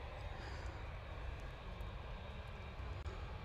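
A Juneyao Airlines airliner in Oriental Ruby livery arrives at Manchester Airport, a faint, steady distant engine rumble with no talk.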